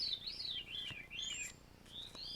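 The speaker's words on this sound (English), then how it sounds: "the birds are really, really singing" Several birds sing outdoors in a run of bright, sweeping chirps and rising-and-falling tweets, fairly close and steady for the whole stretch, with no talking.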